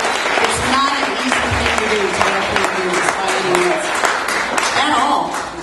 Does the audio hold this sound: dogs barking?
no